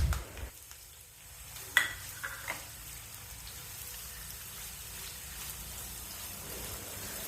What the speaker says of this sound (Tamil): வெங்காயம் நல்ல ப்ரௌன் ஆகிற வரைக்கும் வதக்கணும்.